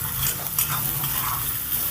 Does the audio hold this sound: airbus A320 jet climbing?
no